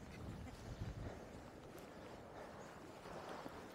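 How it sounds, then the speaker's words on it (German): Steady, blustery stormy wind at Schlangenbucht beach near Mazarrón, Spain, rushes and buffets against the microphone, a continuous broad roar with gusts and no clear voices. "Da geht der Wind wieder ziemlich."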